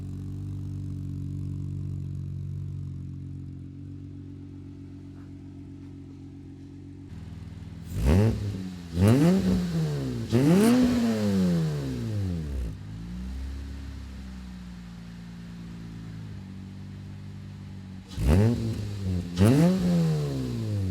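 2004 Honda Accord V6 EX coupe with a six-speed manual and full aftermarket exhaust idling, then blipped through several sharp revs that rise and fall. A second burst of revs follows after a steady idle, loud and close.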